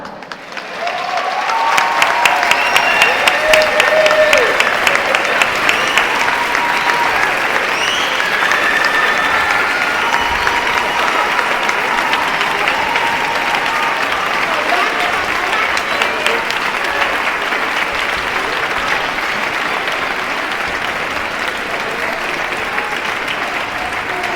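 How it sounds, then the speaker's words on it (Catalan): Sustained audience applause at the close of a community event honoring a participant, dense clapping swelling in the first seconds and holding steady and loud throughout, with no speech over it. "un aplaudiment per a Benja."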